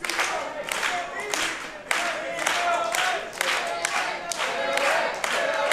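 A wrestling crowd at a student showcase claps and cheers steadily throughout, with dense repeated claps and shouts forming a continuous, fairly loud wall of noise.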